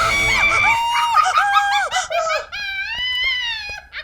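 A woman lets out a long, high-pitched scream alone at night in an empty house, loud and close, wavering and breaking into several sustained shrieks.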